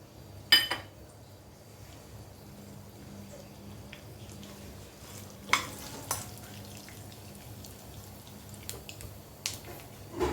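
Lentils frying in hot oil in a kadai, a faint, soft sizzle with occasional clinks of a utensil against the pan, quiet and close, with no talking.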